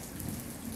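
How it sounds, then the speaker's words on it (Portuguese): Steady rain pours during a thunderstorm in Itumbiara, Goiás, on New Year's Day: a dense, even hiss close by with no break and no voices. "começou a chover agora"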